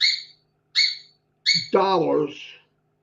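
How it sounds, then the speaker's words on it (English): A pet bird in the room chirps three bright, sharp calls in a steady rhythm, and the last one runs straight into someone talking. "Sorry about the bird. I can't shut him up."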